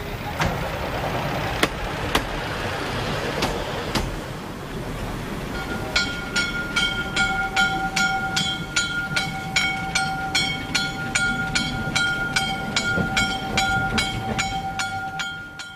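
Museum narrow-gauge 1C tender locomotive built in 1917 for an East Prussian light railway, running with rhythmic rail-joint clicks and steady rolling noise, joined midway by a sustained whistle-like tone, moderately close.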